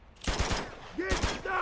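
A few sharp bursts of AK rifle fire from the Uncharted 2 video game crack out in quick succession, with a brief pause between volleys and game sound effects in between.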